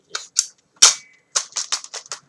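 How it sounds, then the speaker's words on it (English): The folding stock of a D-Boys AK74S airsoft gun unfolds with a series of sharp plastic-and-metal clacks and snaps, loud and close, one heavier knock followed by a rapid cluster of clicks. "this folding stock, which you unfold"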